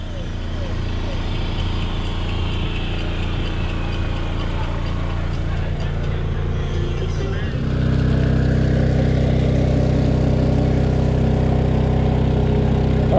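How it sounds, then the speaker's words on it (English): A Honda portable generator runs at a Miami sandbar at sunset, giving a steady low engine drone that grows noticeably louder and fuller partway through, with faint background voices underneath. "We're trying to use the Honda generator that you see right there"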